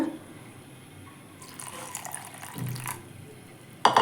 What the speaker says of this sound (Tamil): இப்போ இந்த மிக்சி ஜாரில் கொஞ்சம் தண்ணி ஊற்றிக்குவோம்